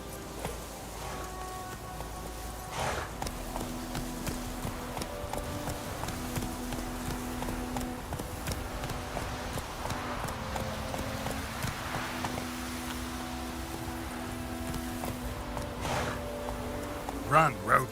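The horse Roach galloping in The Witcher 3, with rhythmic hoofbeat clip-clop running continuously, mixed with game music tones and ambient sound, and a voice speaking over it.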